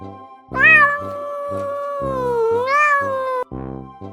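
A cat gives a long, drawn-out meow, loud and close, with a steady low hum underneath and a short second meow at the end.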